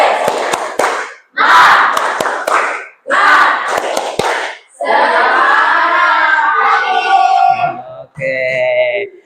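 Classroom children do a "tepuk semangat" clapping chant, with rhythmic group claps in short bursts followed by loud shouted chanting voices in unison.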